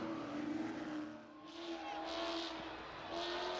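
Stock race cars roaring at Colorado National Speedway in a NASCAR weekly series race, loud engine drone that swells and fades as cars pass, with an announcer talking over the noise.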